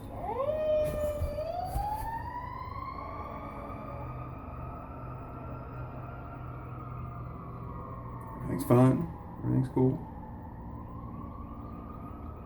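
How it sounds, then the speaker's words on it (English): An emergency siren wails steadily outside, rising at first then holding a long sustained tone, with someone talking over it and a few sharp knocks near the end. "I don't know why that siren started up like right in front of my house."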